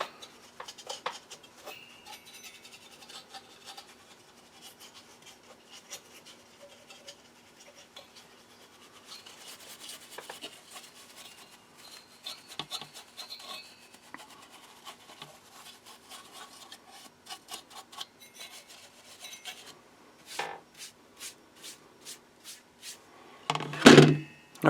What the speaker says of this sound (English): So now I just kind of brush everything.